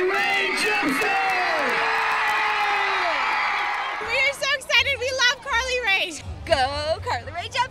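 A crowd at a Carly Rae Jepsen appearance whoops and cheers with some applause after an announcer's introduction, the noise swelling loudly as voices shout over the din.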